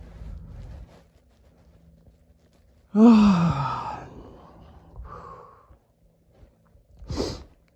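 A person gives a long, open-mouthed yawn that rises and trails off, followed by a softer exhale and a brief breathy sound near the end, close and otherwise quiet.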